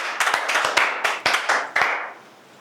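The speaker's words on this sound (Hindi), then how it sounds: "जोरदार तालियां रमेश सर के." Clapping from an audience in a class, a few loud, close, sharp rhythmic claps with short pauses between them, then dying away into quiet.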